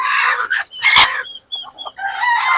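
A rooster crows loudly nearby and hens cluck in short bursts around it, all close and without any talking.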